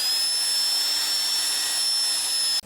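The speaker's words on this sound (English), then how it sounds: "the work pattern I've developed with these table rolls is to first hit them with a big saucer brush" A big saucer brush on a power tool grinds against the metal table rolls of a Yates American B244, a loud, steady high-pitched whir that holds for over two seconds and then cuts off abruptly.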